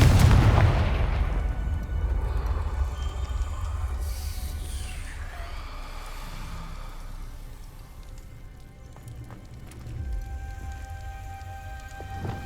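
A Confringo blasting spell explodes in Hogwarts Legacy, a loud low boom at the start that rolls off into a long rumbling tail, with further game rumbles and a softer thud near the end.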